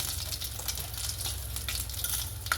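Black gram lentils, mustard seeds and dried red chillies fry in hot oil for a tamarind rice tempering, a dense continuous sizzle with faint crackles and light stirring, close and unbroken.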